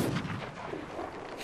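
Booming cannon fire during a pirate ship battle in the video game Sea of Thieves, heavy dense blasts filling the whole moment with rumbling low thumps and no pause.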